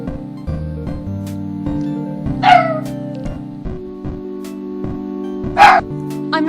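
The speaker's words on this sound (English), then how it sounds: "I'm not certain if you hear that, but that was my dog" Loud, excited barks from a dog in two sharp bursts over a steady buzzing, droning background tone.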